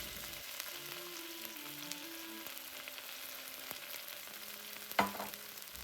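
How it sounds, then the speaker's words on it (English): Oyster sauce sizzling in a pan of stir-fried bok choy, a faint steady frying hiss close by, with light utensil clinks and a sharper scrape partway through. "And then we could add in our oyster sauce, which is about 1 or 2 tablespoons."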